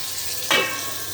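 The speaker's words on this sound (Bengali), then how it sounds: "উল্টে পাল্টে একদম দুদিক এরকম কড়কড়ে করে ভাজা হয়ে যাবে" Puti fish frying crisp in a hot pan, a short burst of sizzle rising over low background hiss and easing off within a second.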